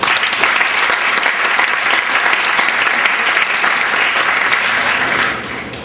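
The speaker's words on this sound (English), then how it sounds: "I'd like to give them a round of applause." Banquet audience applauding senior athletes at a high school sports banquet, a dense, steady wash of many hands clapping for about six seconds before easing slightly at the end.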